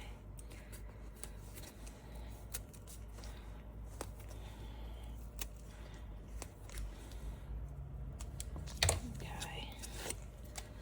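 Scissors cutting paper for a journal page, faint crisp snips and paper rustles at close range, with quiet speech and soft handling noises around them.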